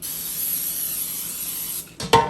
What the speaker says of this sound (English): Non-stick spray. Boom. Spray that pan.